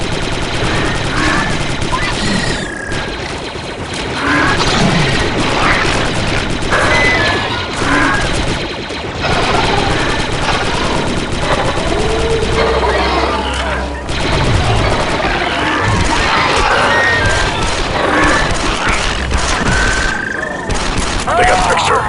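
Rapid blaster and rifle fire in the Star Wars Republic Commando video game on Geonosis, dense loud bursts and crashes layered with explosions, with squad voices calling out over the shooting.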